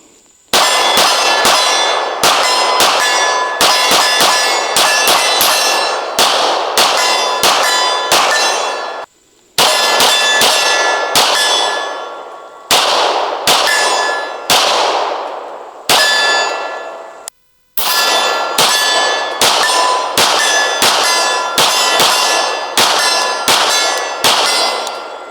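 Rapid pistol fire from a 1911 fed by Glock 17 magazines rings steel targets outdoors, loud sharp clangs in quick strings with brief pauses between volleys and no talking.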